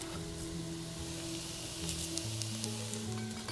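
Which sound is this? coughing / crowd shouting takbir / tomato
tomato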